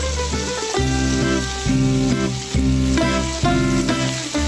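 A vegetable mixture sizzles and fries in a pan. The hiss is steady and close, broken by repeated bursts of louder crackle as it is stirred.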